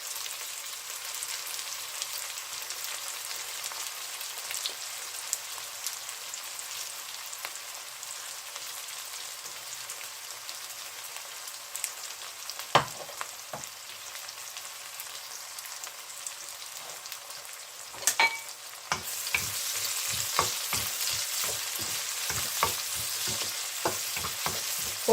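Sliced onions, cut lengthwise, fry in a pan for beetroot pulao with a steady, close hiss, broken by sharp scraping knocks of stirring and a brighter sizzle near the end.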